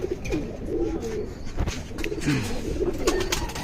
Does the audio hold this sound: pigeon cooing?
yes